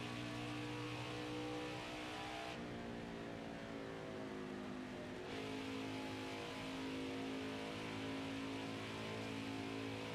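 NASCAR Heat 5 race car engine held at throttle on the Pocono track, a loud, sustained droning roar with steady harmonic tones that shift slightly in pitch, heard without talk.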